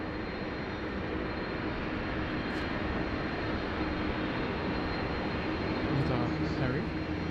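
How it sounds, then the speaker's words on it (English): A China Southern airliner lands at Sydney Airport, its jet engines a continuous distant roar with a steady rumble, and faint voices can be heard in the background. "Landing by China Southern. Just a bit of a surprise approach."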